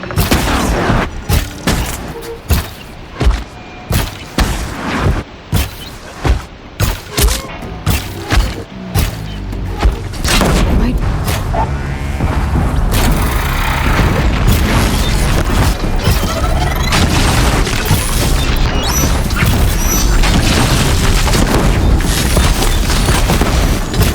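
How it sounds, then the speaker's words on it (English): Heavy explosions in the video game Horizon Zero Dawn: a run of loud booms and crashing blasts, one after another, that builds into a dense, sustained roar of rumbling impacts and debris. "Explosion. It's heavy."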